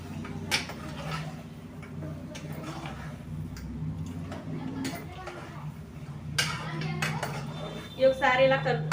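A spoon stirs goat trotters in a cooking pot with onion paste and tomatoes, making scattered close ticks and metal clinks against the pot while a person talks over them.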